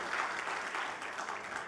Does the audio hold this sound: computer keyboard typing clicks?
no